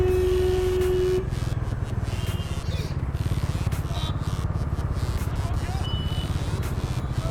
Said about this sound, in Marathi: मीरा रोडमध्ये पण ट्रॅफिक आहे